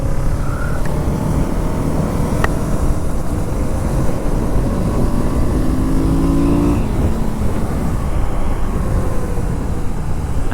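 A 2022 Kawasaki Z650 RS retro 650cc motorcycle is ridden at speed, its engine a steady, loud rumbling drone mixed with constant wind roar, heard close throughout without talking.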